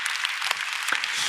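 A church congregation claps together at a Sunday worship service, giving a short burst of steady, dense applause that fills the room.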